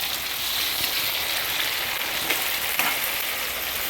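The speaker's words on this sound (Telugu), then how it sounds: "ఉల్లిపాయ, పచ్చిమిరపకాయ అంత లైట్గా వేగిందండి" Onion, green chili and tomato fry in oil for a Telugu puffed rice snack, with a constant, even sizzle and faint occasional stirring clicks, and no voices.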